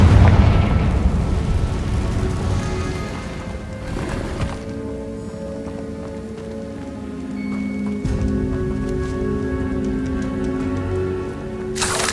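A Confringo fire spell going off in Hogwarts Legacy, heard as a burst of broadband crackle at the start and a second blast near four seconds, trailing into a humming tonal game ambience with a short thump near the end.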